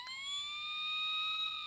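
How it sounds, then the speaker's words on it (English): A Playmobil fire department ladder unit's toy siren wails electronically, steady high pitched tones that rise slightly in pitch, close and moderately loud, with no talking. "There you go, there's your siren."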